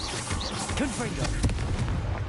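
Confringo explosive spell blast in Hogwarts Legacy, a dense burst of booming, crackling impacts with rapid sharp hits layered over a loud low rumble, with brief game voice sounds mixed in.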